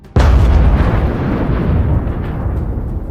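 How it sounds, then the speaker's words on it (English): An armored personnel carrier sets off a mine in a war zone, producing a sudden heavy blast that erupts with a deep boom and then rumbles on loudly as a long fading roar. "Another armored personnel carrier detonates a mine and is destroyed."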